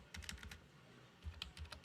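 Quiet typing on a computer keyboard: a short burst of soft key clicks, a pause, then a second flurry of taps, close and faint.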